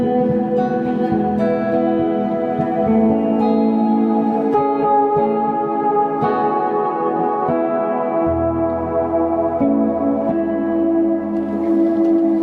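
Electric guitar through a Fender Deluxe Reverb tube amp: chords and melodic lines ring out alone with warm, full low end and a wash of reverb, steady and fairly loud throughout.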